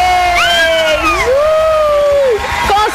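Family of a contestant shouting and cheering in a TV studio, several high excited voices whooping and calling out loudly and continuously, with sustained rising and falling shrieks over crowd noise.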